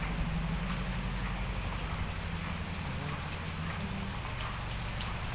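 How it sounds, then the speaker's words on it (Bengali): Heavy rain pours down outside a village mosque during a storm, heard from indoors as a dense, steady hiss with low rumbling underneath, continuous and fairly soft. "প্রচুর বৃষ্টি হচ্ছে। মসজিদের ভিতরে আছি আমি।"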